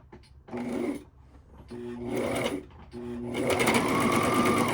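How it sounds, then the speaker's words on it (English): A sewing machine stitches forward and backward on a service dog vest, with three close whirring bursts separated by brief pauses, the last one longer and steadier. "So now I like to do a couple stitches forward and then backwards to make sure that the stitches are stitched into place."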